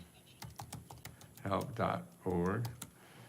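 Rapid clicks of typing on a computer keyboard come in short bursts, with a person speaking over the keystrokes in the middle of the passage.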